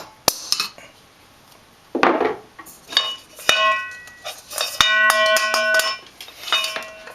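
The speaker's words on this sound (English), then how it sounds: "take your handy hammer and a screwdriver and just punch this out" Sharp metallic strikes ring out irregularly as a hammer drives a screwdriver to punch out a metal piece on a lighting kit, some single and some in quick bursts, with clanking, bell-like resonance close by and no talking.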